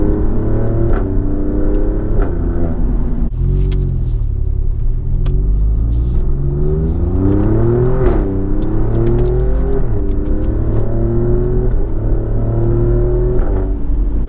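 An Alfa Romeo Giulia Quadrifoglio engine rumbles steadily throughout, with the pitch rising and falling as the car accelerates and shifts, close and continuous.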